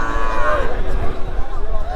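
A cow moos nearby, a drawn-out low bellow, amid a noisy outdoor cattle market crowd in Bangladesh with people talking in the background.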